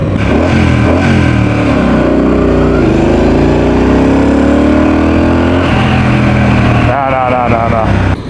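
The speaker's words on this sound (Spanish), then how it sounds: "Quiero que escuchen el sonido del escape." A loud motorcycle engine rumbles and revs steadily, rising in pitch through the middle, then eases off near the end.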